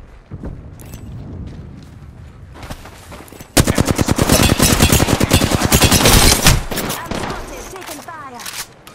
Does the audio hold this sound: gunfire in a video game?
yes